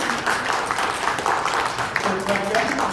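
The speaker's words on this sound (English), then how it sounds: "Please give these guys a round of applause." Audience applause at the close of a hypnosis show, a dense steady wash of many hands clapping at moderate loudness, with a voice speaking over it.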